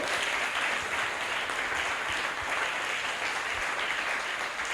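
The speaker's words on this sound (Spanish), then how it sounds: "Tiene que ser más fuerte el aplauso para el Señor." A church congregation claps loudly and continuously, a thick, even sheet of applause from many hands that holds steady throughout.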